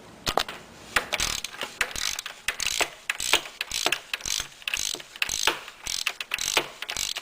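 A part being unscrewed by hand with a ratchet during an oil change on a 2.2L Ecotec engine, giving quick, close clicking ratchet strokes in an uneven rhythm with no talking.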